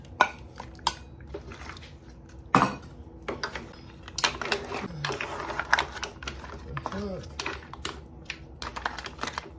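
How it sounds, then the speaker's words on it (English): Peeled shrimps dropped into a seafood boil pot, with clattering, clinking and splashing bursts close by amid kitchen activity, and a voice speaking at points. "So now we add the peeled shrimps."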